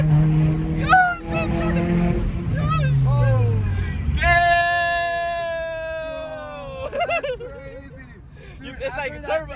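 A car engine with VTEC revs hard past 5,000 rpm, a loud rising howl that climbs in pitch and then holds high, with excited voices talking over it inside the cabin.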